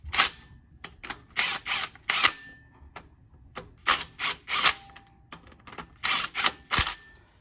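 Impact or ratchet tool running down new flywheel bolts on an 8th-gen Honda Civic Si during a clutch job, sharp rattling bursts in short clusters separated by quiet gaps, close and loud.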